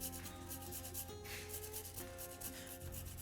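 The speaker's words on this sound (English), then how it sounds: "we're not just going to juice those limes. We're going to zest them too" Limes zested against a grater for wing sauce, a steady close rasping rub that runs continuously with slight rhythmic strokes and no talk.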